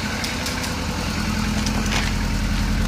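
A car engine idles steadily and close by during a pre-purchase inspection at the exhaust, a constant low rumble with no talk.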